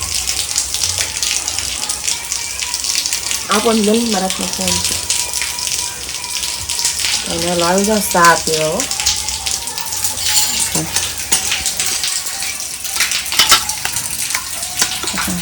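Steady rain hisses across the whole stretch in wet monsoon weather, a dense, even wash of drops with a few brief louder spatters, while people talk over it at moderate volume.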